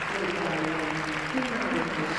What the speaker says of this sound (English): The crowd have just loved it, and they're showing their appreciation as the dancers leave the floor for the last time